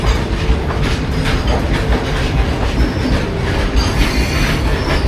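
Steel Express passenger train rolls into Chakulia station, a loud steady rumble of wheels with rhythmic clatter over rail joints and faint metallic squeals.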